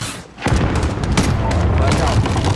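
Missile launch and explosions in the video game Call of Duty: Modern Warfare, a loud rumbling barrage of booms and blasts that starts abruptly and keeps going.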